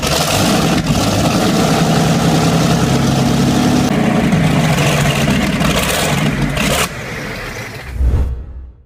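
A surplus supercharged Packard V12, the kind used in 1950s Gold Cup hydroplane racing, runs steadily with a loud, dense low roar and shifting tones, easing off near the end before a brief swell.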